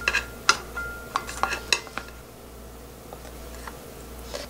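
Braised kabocha squash being served into a dish: a string of light clinks and taps of utensil against bowl and pan, irregular and close, separated by quieter gaps of soft scraping.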